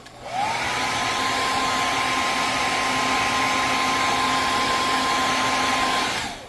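A heat gun blows hot air steadily over a clogged paint spray gun, making a loud, continuous whirring hiss with a faint high whine. It runs alone for about six seconds before stopping.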